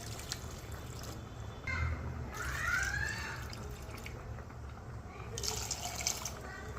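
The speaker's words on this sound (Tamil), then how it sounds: "இப்போ தண்ணி ஊற்றிக்கலாம்." Water runs and splashes into a cooking pot for a toor dal kulambu, a steady, moderately faint pour with slight surges and drips.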